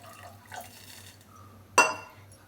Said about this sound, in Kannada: ನಾನು 1-2 ಗ್ಲಾಸಷ್ಟು ನೀರು ಹಾಕ್ತಾ ಇದ್ದೀನಿ.